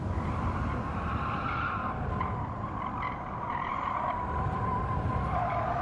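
Polestar 5 race car in a video game at Brands Hatch Indy Circuit, engine droning steadily at full throttle with tires squealing and skidding through the whole stretch, loud and close without any talk.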